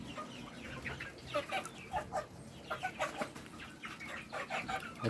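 A flock of Egyptian Fayoumi hens and roosters clucks repeatedly in close, irregular bursts, the calls rising and overlapping over a low background hum.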